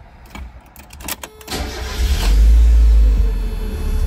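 A 1993 Mazda Miata MX5 engine cranks briefly after a few clicks, then catches and settles into a loud, steady idle heard up close inside the car.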